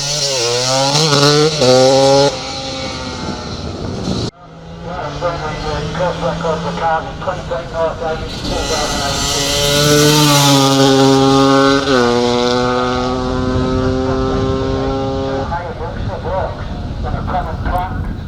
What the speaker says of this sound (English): next up it's Glenn Poole on his 250 Honda Supermoto